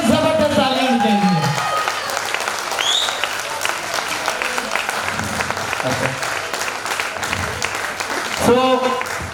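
A seminar audience in Jalandhar bursts into loud sustained applause, dense clapping with a few whoops and cheers, swelling again at the end.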